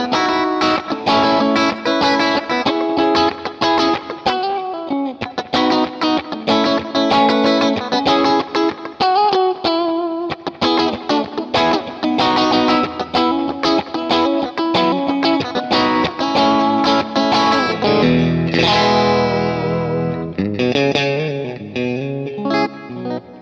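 Electric guitar played through a Kemper profile of a 1962 Princeton amp, a busy run of picked notes and chords with bright, slightly driven tone, steady and loud, ending on a ringing chord with some slides.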